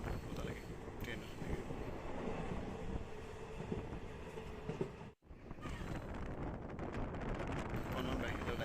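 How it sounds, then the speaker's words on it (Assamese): Inside a train running at full speed, a loud, steady rumble and roar of wheels on rails continues throughout, dipping briefly to near silence midway before resuming. "পূৰা ফুল স্পীডত ট্ৰেইন গৈ আছে"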